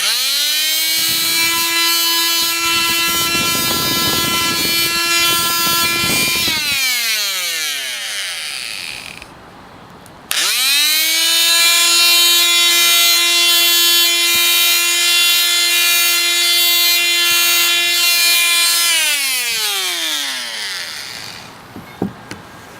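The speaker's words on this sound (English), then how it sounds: "As you can see, I sanded right down to the metal and there's no rust left." A power sander takes rust off a car body down to bare metal: a loud, steady whining motor in two long runs, each winding down in pitch as the tool slows, with no talking.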